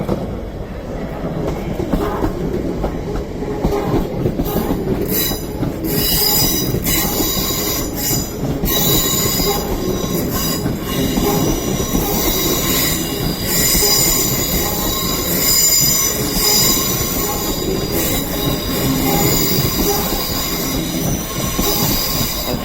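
A Class 350 electric multiple unit, the London Northwestern Railway service, departs Crewe station on the West Coast Main Line, its wheels squealing loudly and continuously alongside rolling rail noise and clatter for the whole stretch.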